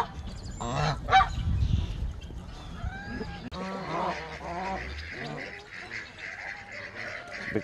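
Several geese honk repeatedly nearby, harsh nasal calls overlapping in irregular bursts, with some rustling in the background.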